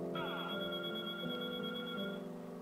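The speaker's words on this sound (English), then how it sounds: "The phone is ringing." A telephone rings with a steady electronic ringtone, a bright sustained tone layered over lower hums that holds for about two seconds before cutting off, fairly loud and close.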